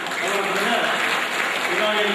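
Audience applause at a community mass wedding ceremony in Kombettu: dense, steady clapping fills the whole stretch, with voices mixed in beneath it.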